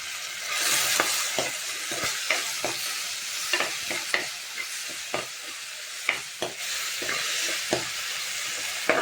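Tomato rice masala fries in a pan, with a constant bright sizzle while a spoon scrapes and stirs through it in repeated close taps and scrapes, and no voices.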